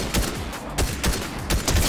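Rapid bursts of rifle fire in the Fortnite video game, several close, loud volleys cracking in quick succession over the short span, with no talking.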